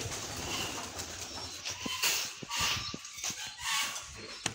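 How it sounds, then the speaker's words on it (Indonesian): Pigeons cooing in a homing-pigeon loft, soft repeated low coos close by over a busy background of bird rustle and chatter, with no talk. "Merpati nih."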